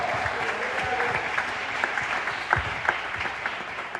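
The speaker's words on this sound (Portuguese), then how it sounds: "Você que crê, aplauda o Senhor com o seu melhor" A church congregation claps together in sustained applause during a worship service, a dense, even patter of many hands filling the room with a few sharper claps standing out.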